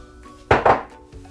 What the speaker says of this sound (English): Just give this a nice old mix